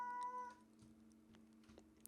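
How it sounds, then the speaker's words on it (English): A house cat gives one short meow at the start, then faint scattered sounds follow, heard quietly and close against a steady background hum. "that was my cat trying to chime in here with some suggestions"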